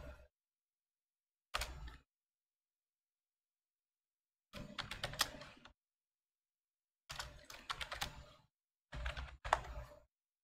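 A password being typed on a computer keyboard, with short bursts of quick, close key clicks separated by silent pauses and a single isolated keystroke early on.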